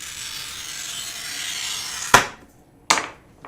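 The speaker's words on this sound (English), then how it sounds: "Let's roll a steel wheel," A steel wheel glass cutter rolls across a sheet of glass, a steady rasping score lasting about two seconds, followed by two sharp taps, close and fairly loud.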